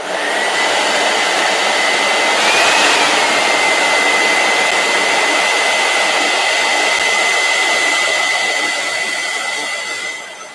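Steady, loud blowing roar of a heat gun, with a thin constant whine riding above the airflow throughout, easing off slightly at the very end. No talking.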